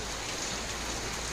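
Afternoon rain falling in Bicol, a dense, even hiss of drops that stays loud and steady throughout with no pauses.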